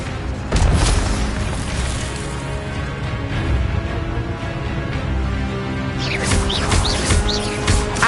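A spell cast in the Hogwarts Legacy video game, the Expelliarmus disarming charm, lands as a loud boom near the start and is followed by sustained magical whooshing and rumble, with bright chirping trills near the end.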